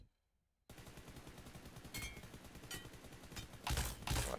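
Bursts of automatic rifle fire in PUBG Mobile aimed at robot targets, starting after a brief silence and growing louder and denser toward the end, with rapid sharp shots.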